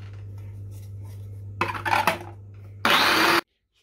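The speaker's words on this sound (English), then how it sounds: "and keep on blending" Blender running on a falafel mixture, with a low steady motor hum that jumps into a loud, brief whirring burst near the end before cutting off.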